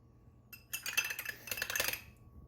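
A spoon stirs a drink in a glass, making a quick run of bright metallic clinks and scrapes for just over a second, close by and fairly quiet, with silence before and after.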